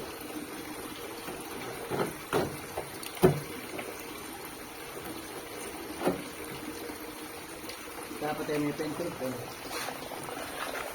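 Water pours steadily into a container while catfish are weighed out for an order, a continuous close splashing and gurgling wash with a few knocks and bumps, as people talk nearby.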